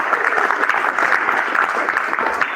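Sustained applause from a large graduation audience, dense and steady clapping at close range with no break for the full length.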